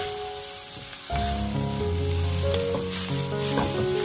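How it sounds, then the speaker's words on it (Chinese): Shrimp stir-frying in a wok over high heat with sauce added, a loud steady sizzle with scraping and tossing of the spatula throughout, no voices. "料汁加进来开大火快速的给它翻炒一下，翻炒均匀就差不多了。"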